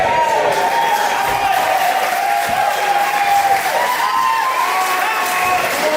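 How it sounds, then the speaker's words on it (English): Wrestling crowd at an Unlimited Wrestling Underground event roaring for Chris Titan: a steady, dense wash of cheering and applause fills the whole stretch, loud and continuous, with voices blended into the noise. "You can hear how much the crowd love him"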